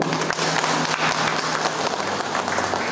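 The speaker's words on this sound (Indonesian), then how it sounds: "Tepuk tangan dulu Bapak Ibu" Seminar attendees clap for the speaker in a meeting room, a dense, steady patter of applause with a faint hum beneath it, sustained throughout.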